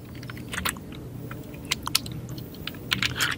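A computer keyboard is typed on in short, irregular bursts of crisp clicks over a low background hum.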